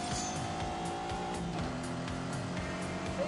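A supercar's engine driving off in The Grand Tour Game, a steady motor drone with rising engine tones and a faint tire squeal, loud and close from start to finish.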